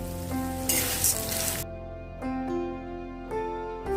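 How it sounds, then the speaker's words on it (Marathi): Flattened rice (poha) dropping into a quarter cup of hot ghee in a wok, a loud close burst of crackling sizzle that dies down into quieter, intermittent frying. "आता या तुपात आपल्याला हे पोहे घालायचे आहे"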